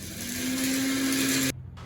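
A mixer grinder coarsely grinds roasted spices in its jar, giving a steady high whirring motor drone that runs continuously and then cuts off abruptly near the end.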